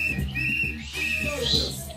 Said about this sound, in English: Blow the whistle.